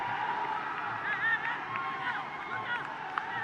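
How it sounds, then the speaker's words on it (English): A crowd at a Sri Lankan football match between SL Police and Super Sun, heard as a steady, distant roar of cheering and babble that stays continuous throughout without clear peaks. "a decent crowd has turned up to cheer both these sides"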